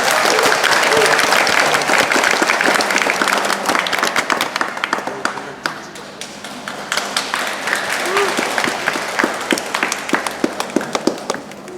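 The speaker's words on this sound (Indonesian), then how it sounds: "Mari kita berikan tepuk tangan." Wedding guests at a church ceremony break into loud, sustained applause that gradually thins into scattered claps, with talk mixed in.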